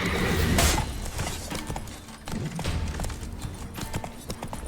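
Hooves of Roach, Geralt's horse in The Witcher 3, galloping in a fast, steady clip-clop rhythm, close and prominent, with a sharp crash near the start and game ambience underneath.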